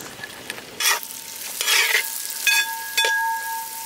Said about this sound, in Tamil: வெங்காயம் நமக்கு வதங்கிட்டே இருக்குங்க.